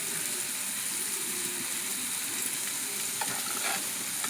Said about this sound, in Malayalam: മീനൊക്കെ ഫ്രൈ ചെയ്തെടുക്കുമ്പോൾ